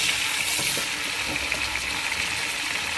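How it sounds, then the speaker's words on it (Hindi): Beef being browned in a pot with fried onions for biryani gives a steady, close hiss of sizzling and bubbling, with faint scraping, throughout. "अभी हम इसमें बीफ शामिल करते हैं।"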